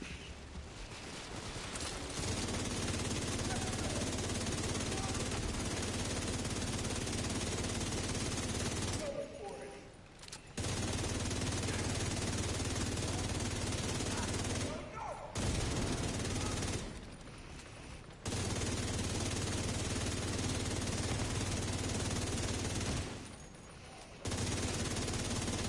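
Dense, continuous gunfire in the video game Division 2, sustained for long stretches and broken by a few brief pauses, loud and close under a steady background of game noise.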